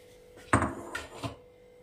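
Chopped pointed gourd pieces are dropped into a large bowl, giving a few quick clattering knocks, one sharp hit followed by two softer ones, close by with no speech.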